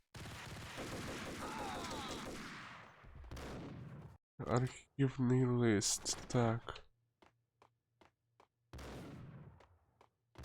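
Video game gunfire in Max Payne comes as dense bursts of shots and a short volley, loud and close, with someone talking between them and scattered clicks.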